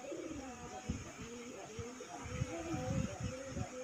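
Red desi golla pigeon cooing during a courtship display, soft repeated low coos in a steady rhythm over a constant background hiss.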